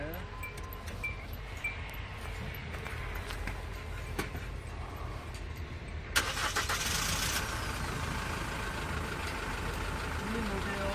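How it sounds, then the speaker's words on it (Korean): A SsangYong Korando Sports engine running in neutral with steady idle rumble, then revved with a sharper rise partway through, heard close and continuous. "그 시동 걸고요. 파킹 놓고 중립해 놓은 상태에서 엑셀링 한번 해주십시오."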